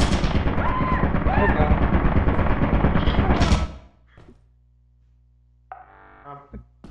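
Turret gunfire in the video game Lethal Company, a loud sustained burst of rapid shots for over three seconds that cuts off abruptly, followed by a few quiet thumps and faint clatter.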